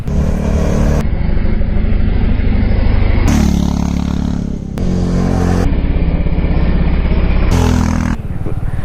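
A 2021 Royal Enfield Classic 350 motorcycle rides along a curvy road, its single-cylinder engine thumping loudly and evenly up close, with steady exhaust drone broken by a few abrupt shifts in tone.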